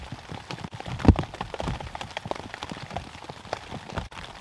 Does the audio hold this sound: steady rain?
yes